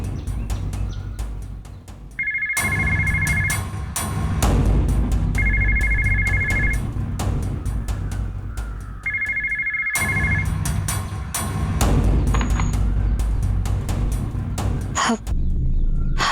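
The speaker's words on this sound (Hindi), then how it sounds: "जाके देख, फोन बज रहा है।" A telephone in a home in an old Indian TV serial rings loudly in repeated electronic trills, with pauses between the bursts and no talk over it.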